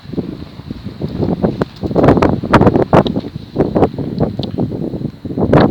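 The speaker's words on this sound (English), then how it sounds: "It's too cold. It's windy." Gusty cold wind buffets a microphone in bursts of low rumbling noise that rise and fall unevenly, with no voices, at Shornemead Fort.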